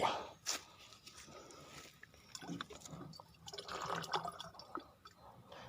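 Liquid, an acid-and-water mix for setting rubber latex, poured into a large basin that already holds water, with splashing and trickling at close range amid scattered knocks and handling noises.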